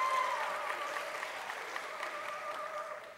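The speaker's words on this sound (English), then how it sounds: "give them a round of applause" Steady audience applause for a group of scholars in scrubs during a scholars week program, a continuous wash of many hands clapping at moderate loudness that fades a little at the close.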